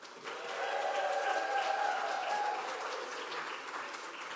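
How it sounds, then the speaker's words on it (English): Worship service audience in a church applauds community organizer Diane Becker, a sustained wash of many clapping hands at moderate distance, with a brief cheer-like tone riding above it. "Can we please give a round of applause to Diane Becker?"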